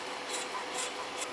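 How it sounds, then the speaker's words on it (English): A power sander rolls over the radius edge of a solid surface worktop, giving a steady, close abrasive hiss with light rhythmic rubbing swells. "To replicate the radius edge of the worktop, roll the sander over the edge."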